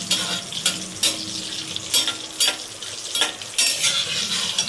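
Cashews frying in a pan until lightly browned, giving a continuous crackling sizzle broken by several sharp bursts of stirring and utensil scraping, close and with no voices.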